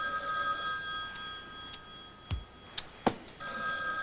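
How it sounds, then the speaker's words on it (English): A landline telephone bell rings in a quiet room, with steady electronic harmonic tones broken by a few sharp clicks and thumps near the middle, the ring resuming clearly toward the end. "Aren't you going to answer the phone,"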